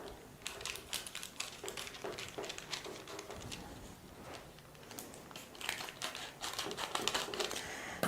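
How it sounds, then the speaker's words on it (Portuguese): Paper being cut and handled while trying to cover a sphere, with steady crisp snipping and crinkling over about eight seconds, busier toward the end. "Vamos cortar esse papel aqui para tentar encaixar"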